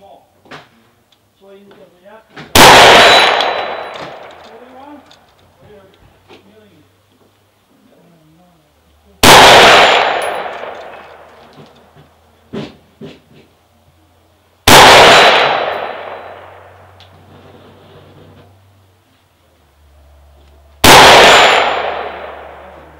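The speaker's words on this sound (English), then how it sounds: "So let's get shooting." A DDM4V11 AR-15 with a 16-inch barrel fires Hornady .223 75 gr match rounds outdoors. Four loud, sharp gunshots come several seconds apart, each trailing off in a long echo, with faint voices and clatter in between.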